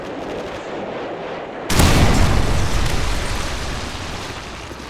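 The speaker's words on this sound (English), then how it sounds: "Friendly Predator missile inbound." A Predator missile strike in the video game Modern Warfare 3 lands after a quiet stretch, a sudden loud blast that rolls into a long, slowly fading rumble.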